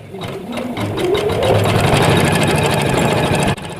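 An Usha 450 embroidery sewing machine runs close by with a steady, fast mechanical whirr and rattle for about three and a half seconds, then stops abruptly.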